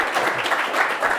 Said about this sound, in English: So let's give Jimm a round of applause.